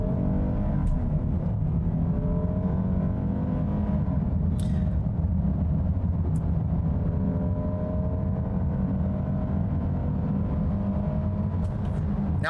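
A 2020 Kia Telluride all-wheel-drive SUV in sport mode accelerates steadily, its engine a continuous loud low drone that climbs gradually in pitch, heard from inside the cabin with no talk.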